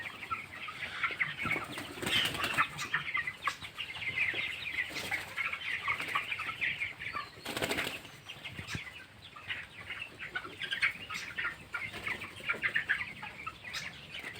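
Broiler chickens about 19 days old in a poultry farm shed give a dense, steady chorus of clucks and chirps with occasional wing flapping, close and continuous throughout, with no talking.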